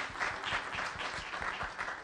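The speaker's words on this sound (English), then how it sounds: "this good Republican applauded that line" Audience applause breaks out at a university Q&A with Senator Chris Dodd at Howard University, a steady wash of many hands clapping at close range, filling the whole moment without pause.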